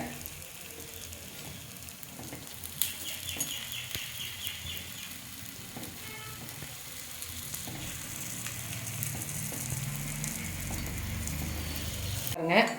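Paniyaram cook in a pan with a continuous soft sizzle and bubbling that holds steady throughout, with occasional light clicks and scrapes from the pan.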